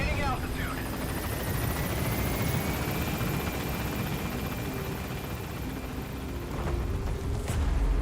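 Pequod helicopter gaining altitude in Metal Gear Solid V, a steady loud rotor and engine roar with a rising whine, continuous throughout with a brief thump near the end.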